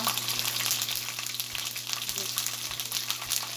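Ginger and garlic paste frying in a pan, an even hiss of sizzling oil with faint rhythmic low knocks from stirring, heard close and continuous over a constant hum.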